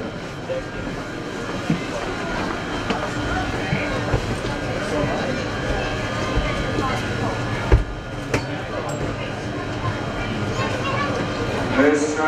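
A London Underground train stands at Leicester Square station, giving a steady rumbling hum with a few sharp clanks. Recorded station announcements play over it.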